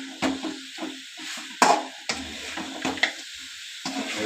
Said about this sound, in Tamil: நல்லா மசாலா போட்டு நல்லா ஃப்ரையாக கிண்டுறோம்.